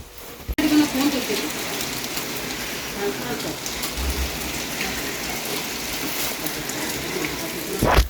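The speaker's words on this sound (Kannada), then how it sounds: "ಎಷ್ಟು ಜೋರು ಮಳೆ ಅದ" Heavy rain pours steadily and loudly in a broad, continuous hiss of drops striking surfaces close by, with a brief thump at the start and a knock at the end; a voice speaks faintly underneath.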